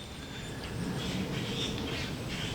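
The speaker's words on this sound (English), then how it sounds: "listen to these weird birds" Odd birds call outdoors, faint chirps drifting over a constant low background hum, with no one speaking.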